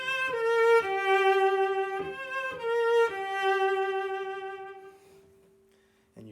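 Lyrical, legato strings in the trio section of a Brahms scherzo, with long sustained bowed tones swelling in phrases before fading out near the end, heard alone without talk.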